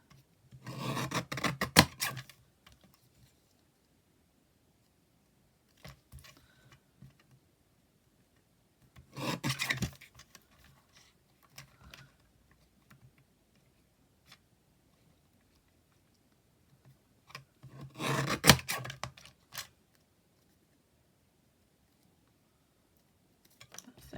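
Paper for a handmade card is trimmed in three short rasping bursts spaced several seconds apart, close and fairly clear, with faint small handling noises between them and no speech.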